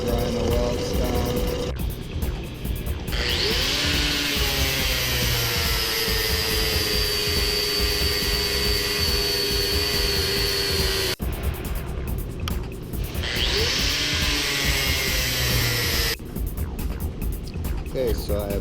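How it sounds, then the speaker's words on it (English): An angle grinder grinds down welds on steel test strips, a loud sustained whine with rising and falling pitch in long passes, stopping briefly between passes. "And we'll grind the welds down."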